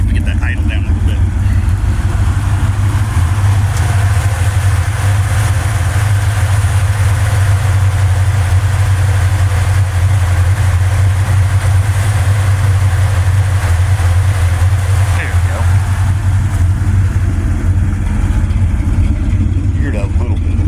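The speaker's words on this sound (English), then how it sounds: "Let's see if we get that idle down a little bit." A 1972 Chevrolet Caprice sedan with a 400 small-block V8 idles steadily up close, a deep continuous low rumble with an even throb that holds for the whole stretch, with faint voices underneath.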